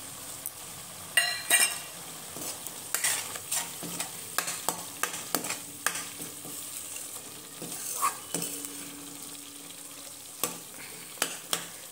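Masala with peas frying in a pan, a soft steady sizzle broken by repeated scraping and clinking stirs of a spoon against the metal, close and fairly quiet, with no voices.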